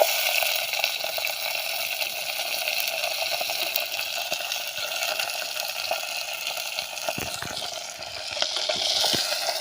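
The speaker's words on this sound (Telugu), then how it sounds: "ఉల్లిపాయలు బాగా ఫ్రై అయిపోయి ఇప్పుడు పీతలు వేసుకుంటాడు" Crabs frying with onions in a hot pan, with a steady, dense sizzle that runs throughout and a few louder crackles and stirring clatters toward the end.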